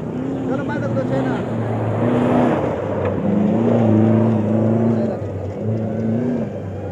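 Desert rally jeep engine at the Cholistan Jeep Rally qualifying round in Pakistan, revving in rising and falling pulls as it arrives, loud and close, with excited crowd voices over it.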